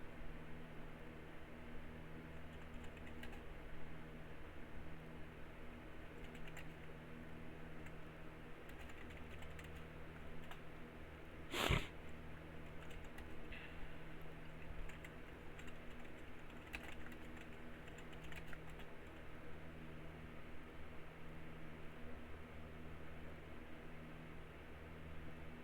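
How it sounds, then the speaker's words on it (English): Steady typing on a computer keyboard continues for about twenty-five seconds of soft, irregular key clicks over a low background hum, with one sharp louder knock near the middle. "One minute. Just typing it out."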